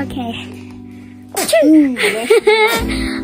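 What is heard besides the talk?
sneeze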